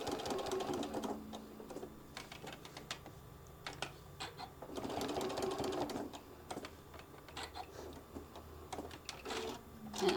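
A sewing machine stitches a folded fabric heart case in quiet, rapid mechanical runs of needle clatter that stop and restart, with short bursts forward and back.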